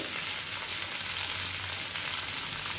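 Asafoetida and spices sizzle steadily in hot oil while tempering a cucumber chutney, a dense, continuous crackling hiss close by, with no talking.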